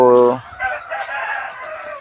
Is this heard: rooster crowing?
yes